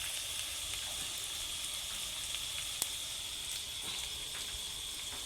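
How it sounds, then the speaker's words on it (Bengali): Garlic paste and cumin paste frying lightly in oil, a faint, even hiss of sizzling that carries on steadily with one small tick partway through. "এখন একটু ভেজে নিব, হালকা করে ভেজে নিব"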